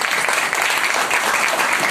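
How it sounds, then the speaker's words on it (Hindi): An audience claps loudly and densely at a business event, with the applause sustained and even throughout and no voices. "तो इनके लिए जोरदार तालियां होनी चाहिए"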